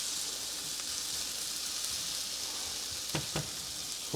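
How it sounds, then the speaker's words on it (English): Tomatoes sear in a pan as a zucchini sauté cooks, holding a loud, even hiss near at hand, with two brief utensil taps near the end and no talking. "we want to sear and brown these tomatoes just a little bit"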